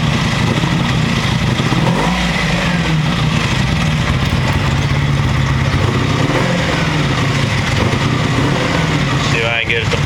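A motorcycle engine with a Rae-san ignition box, which stalls and occasionally backfires, revs loudly and continuously up close, with a faint pop near the end.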